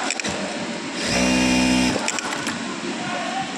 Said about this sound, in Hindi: अभी ये तो सिलाई लग रही है, घुमाना पड़ेगा